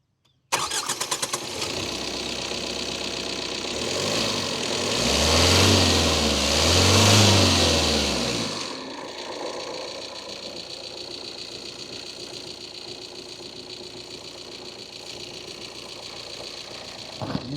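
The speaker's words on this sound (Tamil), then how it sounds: "இன்ஜின் ஸ்டார்டிங் உங்களுக்கு எப்படி தெரிஞ்சிருக்கும்." A Tata Altroz 2025 diesel engine cranks and fires, swelling into a loud throaty rev before settling into a steady, even idle, heard close with no talking.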